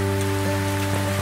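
Rain in the farming video game Cornucópia patters steadily and evenly under a sustained layer of soft game music.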